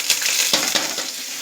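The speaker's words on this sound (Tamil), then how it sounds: "சீரகம், எண்ணெய் பொரிஞ்சு வரும்போது" Cumin seeds spluttering in hot oil for a temple-style tamarind rice, a dense crackling sizzle with a few sharp pops standing out, close and steady, with no voices.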